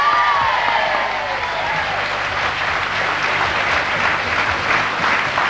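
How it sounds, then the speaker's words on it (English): Studio audience at a live 1985 television music show applauds and cheers in a loud, steady wash of clapping and crowd noise that fills the whole stretch without a break. "Give her a cheer."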